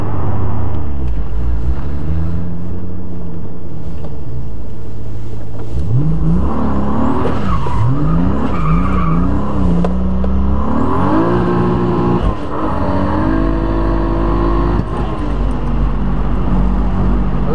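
A 600 hp Lexus GS300 with a 2JZ-GTE engine and six-speed gearbox revs and accelerates hard, its pitch rising and dropping through gear changes with stuttering fuel-cut cutouts, loud and close throughout.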